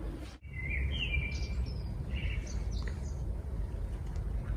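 Nightingale singing outdoors, a series of short whistled and trilled phrases at moderate distance over steady low background rumble.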